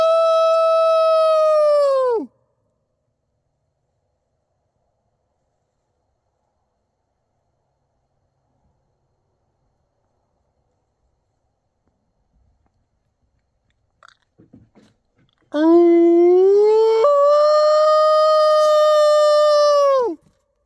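Two long sustained howls imitating a timberwolf, used as a call to attract wolves near a park's southeast border in Canada; each rises, holds steady and falls, separated by a long silence with faint scattered sounds.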